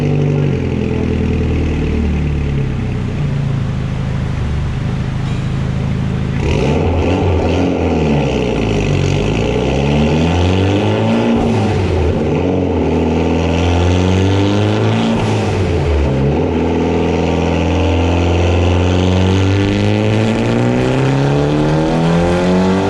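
Mitsubishi Evo X with stock turbo, stock block and stock head on E85 fuel, revving hard on a dyno, with a loud continuous engine roar that climbs and falls through several sweeping pulls.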